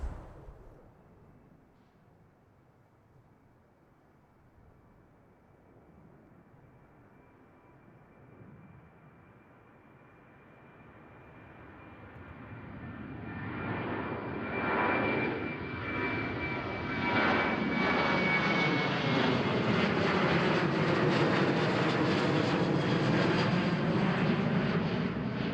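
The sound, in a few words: Norwegian Boeing 737-800 jet aircraft passing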